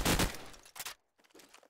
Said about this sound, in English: Wall bangs going up by Darix.